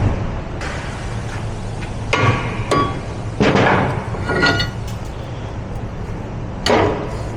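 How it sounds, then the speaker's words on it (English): Mallet blows knock on a brake rotor being freed from a 2007–2025 Mercedes Sprinter van during parking brake shoe work, several sharp metallic strikes spaced irregularly over a steady background hum. "Remove our rotor. Grab a mallet."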